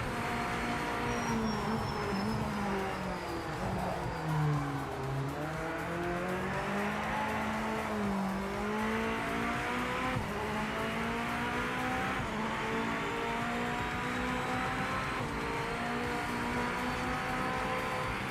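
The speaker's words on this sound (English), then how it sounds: "A good sounding car." A race car engine in a racing sim game drones loud and steady throughout, its pitch sweeping up and down through gear changes and corners, with faint tire squeal and no talking.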